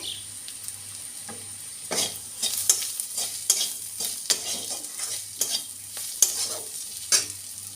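Garlic and chopped onion with a pinch of salt sizzle in a pan, with irregular scrapes and knocks of a spatula stirring them, close and clear over a faint low hum.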